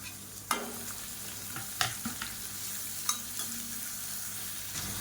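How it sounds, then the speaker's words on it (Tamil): Grated carrot, finely chopped beans and shredded cabbage sauté in a pan with a soft, steady sizzle, broken by a few sharp clinks and scrapes of a spoon stirring the vegetables. No one speaks. "இப்போ இது எல்லாமே நல்லா வதங்கிடுச்சு."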